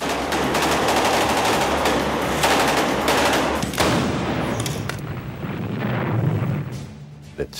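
Combat fire in the 1968 Battle of Hue, Vietnam, with a 106mm recoilless rifle among the weapons: dense, continuous bursts of gunfire and heavy blasts crowd the whole stretch, then thin out into scattered, slightly more distant shots.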